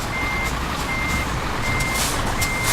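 Repeated electronic reversing beeps from a truck backing a trailer in Euro Truck Simulator 2, loud and steady over a constant engine rumble, several evenly spaced tones.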